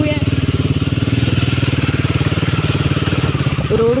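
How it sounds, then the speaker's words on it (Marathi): A motorcycle on a bad road, its engine thumping in a loud, steady close rhythm throughout. "गणेश आणि अमय बाईक घेऊन पुढे गेले।"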